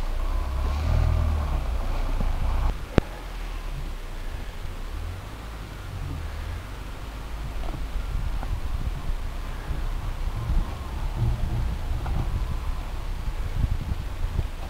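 Lada Niva rolling slowly over rough ground in Lyaskovo, a low steady engine rumble with crunching and wind noise throughout, one sharp knock early on, no talk.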